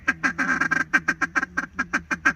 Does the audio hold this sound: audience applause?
no